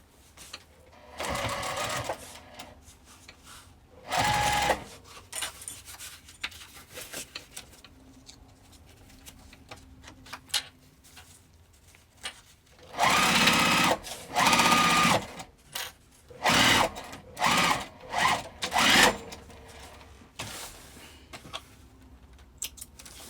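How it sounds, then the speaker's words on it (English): A sewing machine stitching across a crossbody bag in short and longer bursts of rapid whirring needle chatter, separated by quiet pauses and small handling clicks. "we're just gonna stitch this across, and then this bag's done"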